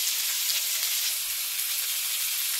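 Cube steak simmering in tomato gravy in a pan produces a steady, close sizzle and bubbling hiss that holds evenly throughout, with no voices.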